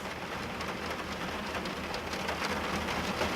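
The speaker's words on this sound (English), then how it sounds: "It has been raining." Steady rain falls continuously over a whole span, a dense, even hiss with no breaks, fairly close and moderately loud, with no one speaking.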